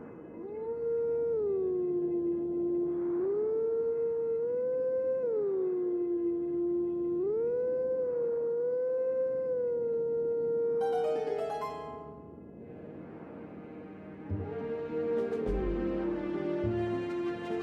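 Dog-like howling in Twilight Princess HD, a sustained wavering cry sliding up and down in long phrases, loud and clear, fading after about eleven seconds into quieter game music and effects.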